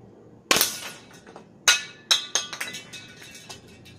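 A homemade gun fires at a small perfume can, producing a sharp close crack followed by metallic clinks and a few lighter rattling hits as the can reacts, with no speech.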